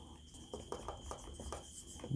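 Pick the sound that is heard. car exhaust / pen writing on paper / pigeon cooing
pen writing on paper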